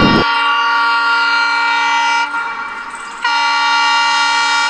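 A loud train horn blares in one long sustained tone, dips briefly, then sounds again at full strength, close by.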